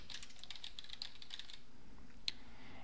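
Light clicks of a computer keyboard tap out a short name in a quick run, then pause before one final sharper keystroke, quiet and close.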